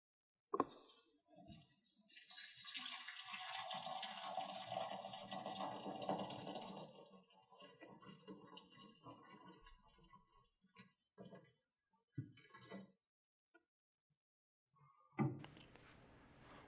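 Metal material samples lowered into hot water for a thermal test: splashing and running-water sounds with scattered clicks and knocks, close and moderately loud, then sparse handling noises and a short burst near the end.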